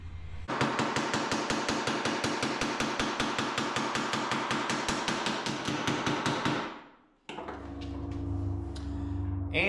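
Rapid, steady metallic hammering against a metal dolly straightens the edge of a custom flush fender skirt on a car, a loud continuous rattle for several seconds, then a brief pause before a different grinding mechanical sound continues.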